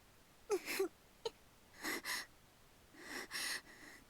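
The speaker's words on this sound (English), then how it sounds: "I snap awake to the sound of someone breathing heavily a few inches from my ear" Heavy, irregular breathing from a person lying in bed in a Fruit of Grisaia visual novel scene, close and faint: several ragged gasps and wheezing breaths with pauses between them.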